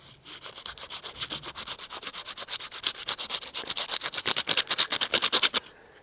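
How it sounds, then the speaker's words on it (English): A hand rubs and rotates a wooden chopstick to smooth it, making rapid, rhythmic scratchy strokes up close that grow louder and quicker toward the end, with no talking. "And as I'm rubbing it, I'm just rotating the chopstick like that."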